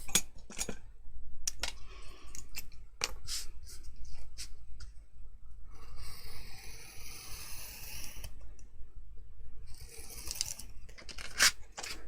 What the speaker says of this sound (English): Grab yourself a craft knife.